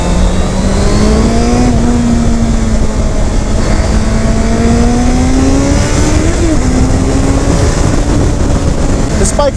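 A 2015 Honda CBR650F motorcycle engine droning steadily while riding, loud and close under wind roar, its pitch slowly rising and falling through gear changes.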